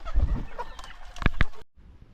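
A few short clucks from chickens nearby, with a couple of sharp calls near the end amid light background rustling.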